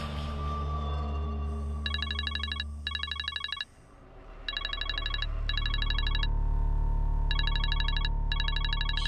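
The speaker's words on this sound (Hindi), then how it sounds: "ये रोहान मुझे इतनी रात को फोन क्यों कर रहा है?" Phone ringtone of an incoming call late at night, repeating electronic trills in regular bursts, loud and close, with a low steady hum underneath.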